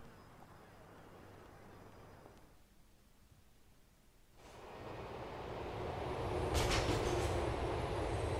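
A train in Grand Theft Auto 4 rumbles into a station platform, with broadband railway noise that drops briefly and then swells louder and closer, and a voice talks over it.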